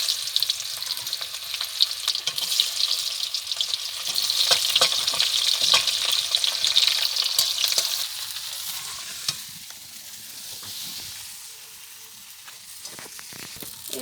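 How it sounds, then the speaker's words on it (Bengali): Chopped onions frying in hot oil for chowmein: a loud, dense, close sizzle crackles steadily, then eases to a quieter hiss partway through, with occasional stirring clicks and no voices. "তেল গরম হয়ে গেছে,"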